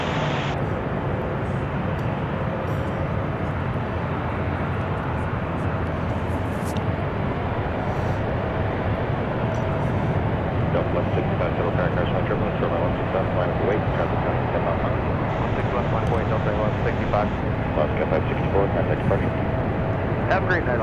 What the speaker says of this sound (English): So this Delta flight here, that's about ready to take the actives headed over to Salt Lake City.